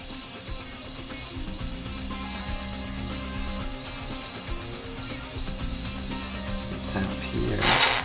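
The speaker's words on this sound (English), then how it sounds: "you can hear the crickets." Steady chorus of crickets chirping throughout, continuous and fairly close, used as ambient sound in a Flash animation, with a brief brighter burst near the end.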